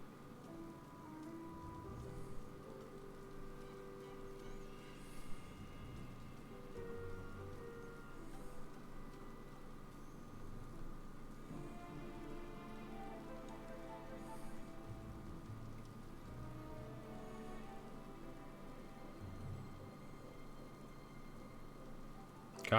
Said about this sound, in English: Oh, I love the sound of rain outside.